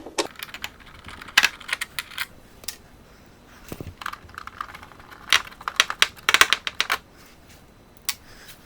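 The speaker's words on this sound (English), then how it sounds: "Then you've got several screws, so we'll go ahead and take those out." Screws being removed from the wiper cowl of a Lincoln Town Car, heard as scattered sharp clicks and ticking taps in irregular bursts, close and fairly loud against a quiet background.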